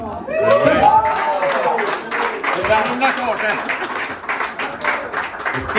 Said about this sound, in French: j'aimerais qu'on remercie et qu'on applaudisse l'équipe de BAI